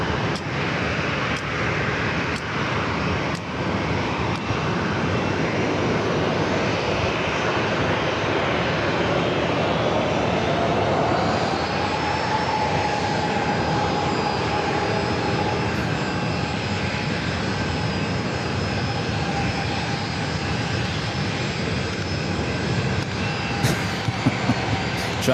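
Southwest airliner taking off at San Diego airport, a loud steady engine roar that rises in pitch and holds for the whole stretch, heard alone with no talk over it.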